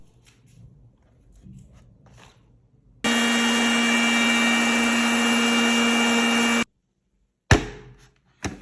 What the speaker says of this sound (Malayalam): എല്ലാം കൂടി നന്നായി നമുക്കൊന്ന് മിക്സിയിൽ അടിച്ചു കൊണ്ടുവരാം.